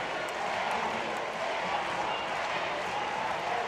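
Judo arena crowd at the European Championships in Montpellier shouting and cheering for a heavyweight fighter, a dense steady roar of many voices held at an even level throughout.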